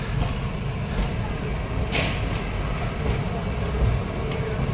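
The Kalka-Shimla toy train sits at Shimla railway station under a steady low rumble and hum of the train, with a brief hiss near the middle.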